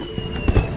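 Fireworks burst outdoors at night, a couple of quick muffled pops close together under a steady background tone.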